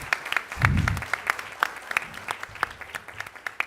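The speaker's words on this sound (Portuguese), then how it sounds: "Uma salva de palmas" Applause at an evening ceremony in São Paulo honouring a labor pastoral coordinator, a scattered round of clapping with a low thump near the start, moderately loud and steady without talk.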